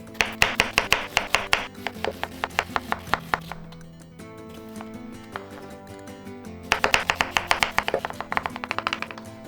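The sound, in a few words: dicing an onion with a knife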